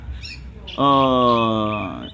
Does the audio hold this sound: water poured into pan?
no